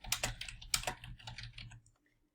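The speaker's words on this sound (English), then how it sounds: "You need to type again, type again, type again." Rapid keystrokes on a computer keyboard as quiz answers are typed, a dense run of close clicks for about two seconds before falling silent.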